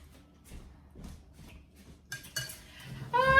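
Fork and spoon clink against a dish in a few light, sharp taps, with a brighter ringing clatter near the end, close by and otherwise quiet.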